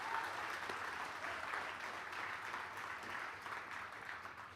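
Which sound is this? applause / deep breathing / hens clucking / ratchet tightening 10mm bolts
applause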